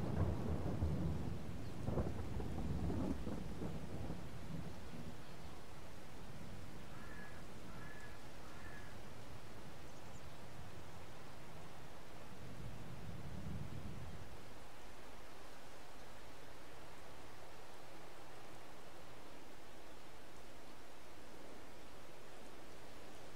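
Rain and rolling thunder in Farming Simulator 22, low rumbles early and again midway over a steady hiss of rainfall, with a few faint caw-like calls in between.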